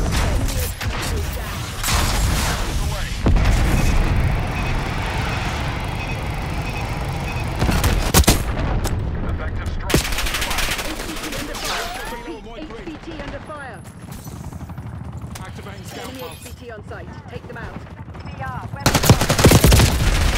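Heavy gunfire in Black Ops 6, sustained bursts of automatic fire and rattling shots close up, easing into scattered mechanical clatter and creaks before a loud burst returns at the end, with voices talking over it.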